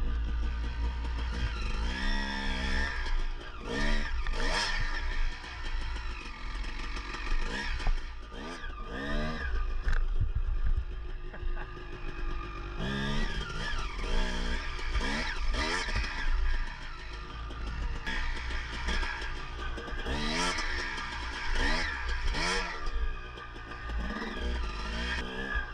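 A two-stroke dirt bike being ridden during break-in, its engine revving up and down in steady waves with sharp, high-pitched bursts of throttle, loud and continuous with no talking.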